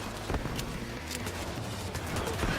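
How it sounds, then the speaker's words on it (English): Explosions and gunfire in the Heist video game come as dense, continuous battle noise with repeated sharp bursts, steady and fairly loud throughout, without speech. "There's so many explosions!"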